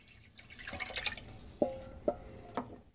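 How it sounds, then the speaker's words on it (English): Water poured into a pot of uncooked rice, sounding as a few distinct close drips and splashes with gentle trickling between them and no talk. "So we're going to add 2 cups of water"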